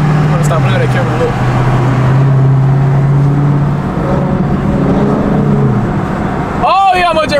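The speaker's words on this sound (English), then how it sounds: "That traffic is crazy. This is 5 o'clock rush." Houston rush-hour road traffic near a Hellcat at a car meet: a steady, loud roar of cars and engines throughout. Voices are heard over it near the end.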